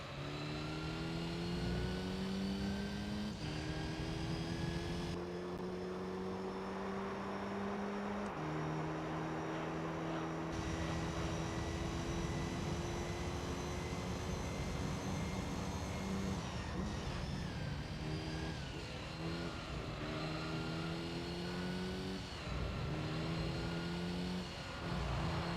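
A race car engine in the Gran Turismo 3 video game drones steadily through a chicane, its pitch dropping and climbing with gear changes, sustained and fairly loud with no talk over it.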